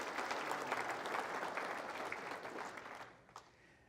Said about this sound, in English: please give our food sponsors from this morning a round of applause as well